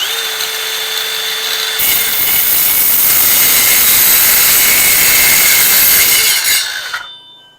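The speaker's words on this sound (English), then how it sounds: "you want to get the blade spinning before you actually hit the wood to start cutting it" A circular saw winds up with a rising whine, then its spinning blade bites into wood with a loud, sustained buzzing roar for several seconds before spinning down and stopping abruptly.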